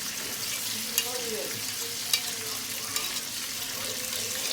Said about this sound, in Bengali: এবার আমি পেস্ট করে রাখা মশলাটা দিয়ে সুন্দর করে এবার চিকেনটা কষিয়ে নেব